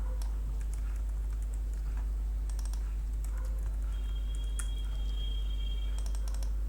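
Typing on a computer keyboard while entering a password into a login form, heard as scattered clusters of light key clicks over a steady low hum, close and fairly quiet, with no voices.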